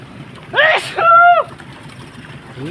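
A single loud, close sneeze in two voiced bursts, a sharp intake then a drawn-out tonal blast, outdoors beside a muddy fishpond while fish are being netted, with faint background noise after.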